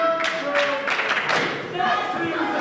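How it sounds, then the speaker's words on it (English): A large crowd chants in a steady rhythmic cadence, voices rising and falling together amid arena noise and scattered claps. "Crowd chanting for Aleki."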